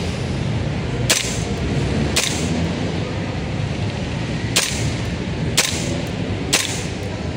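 Kingarms TWS 9mm airsoft carbine firing BBs on its lowest hop-up setting: five sharp, separate shots spaced about a second apart over a constant loud background hiss, with no voices.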